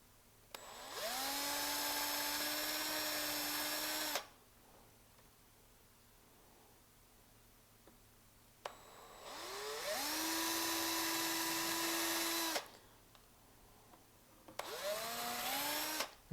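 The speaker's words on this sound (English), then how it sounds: "I'm going to pre-drill the first holes." A power drill pre-drills holes into a wooden scabbard for a machete, whining up to speed in three separate bursts of several seconds each, close and steady with quiet pauses between.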